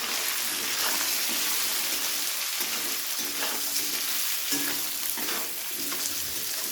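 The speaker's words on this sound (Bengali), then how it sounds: "আলুটাকে আগে একটু ভেজে নেব" Potatoes fry with softened onion in a pan for a vegetarian spinach and mixed vegetable dish, giving a dense, constant sizzle with a few faint stirring scrapes and no talk.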